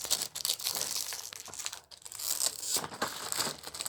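A package is torn open close up, its plastic wrapper crinkling and crackling in dense bursts with brief pauses, loud and continuous, no one speaking over it.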